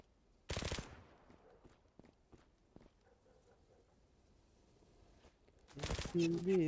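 Gunfire in the video game Zula: two loud bursts of rapid shots, one near the start and one near the end, with scattered footsteps and clicks between and voices talking over the last burst.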